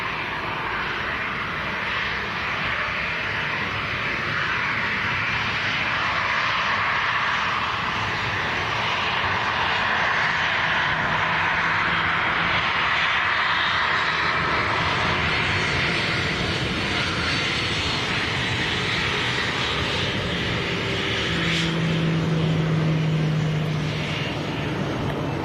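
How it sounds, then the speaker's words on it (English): A Boeing 737-800 jet airliner departs Leeds Bradford Airport outbound to Faro, a steady broad engine roar holding at a constant distance through the whole stretch with no voices. "This is a 737-800 outbound to Faro."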